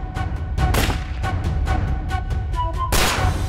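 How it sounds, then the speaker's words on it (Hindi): Several sharp bangs of gunfire outside ring out at irregular intervals, a couple louder and closer, over a low rumbling background. "तो गोली चल रही है। गोली चल रही बाहर।"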